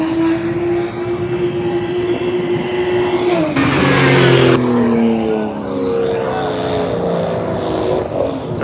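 BMW cars at a car meet, one engine holding a steady drone before a loud burst of revving, then settling into a lower rumble, with faint crowd noise around.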